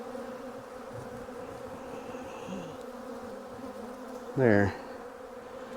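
Honeybees buzz steadily at an opened hive during a mid-winter check, a dense continuous drone close by with one louder swelling burst near the end and a brief spoken word.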